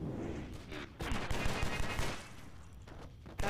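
Video game gunfire from John Woo's Stranglehold: loud, dense, sustained bursts of shots that rise and fall over a few seconds, with no speech.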